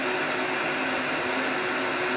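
A heat gun blows a steady, loud whirring rush of hot air onto a 2014 Chevrolet Cruze hood during dent repair, a constant close-up drone with a faint tonal hum and no pauses or speech.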